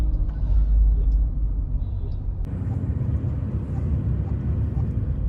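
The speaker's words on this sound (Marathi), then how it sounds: "आज गाड्या बघा किती आहेत, संडे आहे ना आज, भरपूर गाड्या आहेत" Heavy road traffic passes on a busy road, a continuous low rumble of vehicle engines and tyres that shifts as different vehicles go by.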